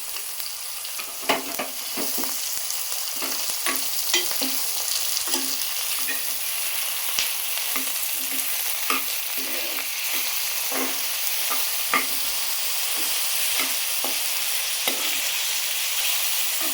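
Onions and green chillies fry in a pan for an Andhra-style broad beans mutton curry, with a constant close sizzle broken by repeated scraping taps of a spoon stirring, and no talk.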